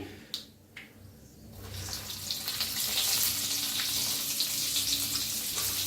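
Stuffed brinjals dropped into hot oil tempered with cumin, mustard seeds, asafoetida and turmeric: a few sharp clatters, then a sizzle that swells into a loud, steady hiss of frying close by.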